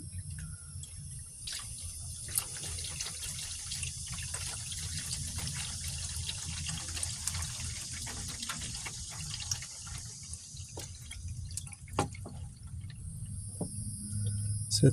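Engine oil drains from the oil pan of a Silverado 5.3L V8 in a steady, faint trickle, with a constant high insect-like hiss and low rumble in the background. Occasional small clicks can be heard, but there is no talking.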